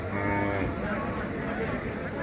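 A native desi cow, an eight-tooth milking cow sold with its calf, lows at a busy village cattle market in Dinajpur. A low, drawn-out moo opens the clip and fades into a steady wash of crowd noise.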